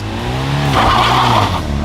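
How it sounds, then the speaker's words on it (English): A car's engine revs high and the clutch drops, bringing a loud, close tire squeal of wheelspin over the straining engine drone, its pitch shifting as the revs fall then climb again. "If you rev too high and drop the clutch, it might look something like this."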